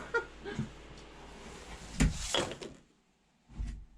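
A door bangs shut nearby with a sharp thud, followed by rattling and a brief quiet, then another dull knock.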